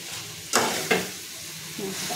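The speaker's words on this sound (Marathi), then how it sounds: "गोडा मसाला टाकून झालेला आहे, त्याच्यात आपण ते मिक्स करायचं आहे व्यवस्थित।" A spoon stirs goda masala into a frying prawn curry, with two sharp scraping strokes over a soft background sizzle and a fainter clink near the end.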